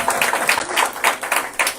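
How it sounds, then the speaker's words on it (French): A church congregation at a Sunday wedding celebration claps in quick, fairly rhythmic bursts, moderately loud and close, with a few cheers mixed in. "Sous vos acclamations, s'il vous plaît."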